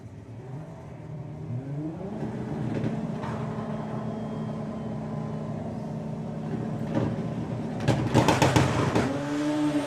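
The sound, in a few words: drag racing cars launching off the line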